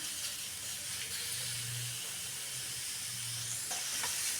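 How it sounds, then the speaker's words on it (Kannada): Tomatoes fry in oil in a pan for chutney, giving a steady, moderately loud hissing sizzle with faint stirring scrapes throughout. "ಚೆನ್ನಾಗಿ ಎಣ್ಣೆಯಲ್ಲಿ ಈ ಥರ ಫಸ್ಟ್ ಹಿಂಗೆ ಫ್ರೈ ಮಾಡೋಣ"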